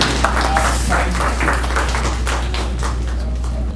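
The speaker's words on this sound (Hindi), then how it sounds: "मैं आपकी ढेर सारी तालियों में बुलाने लगा हूँ अम्बरीन हसीब अंबर को" Sustained applause from the audience at an international Urdu mushaira poetry recital, steady and full-bodied clapping throughout with no gaps.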